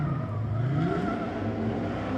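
Pro drift series car finishing a qualifying run tight to the wall, a steady engine roar with a rising pitch sweep, heard from a distance over crowd ambience.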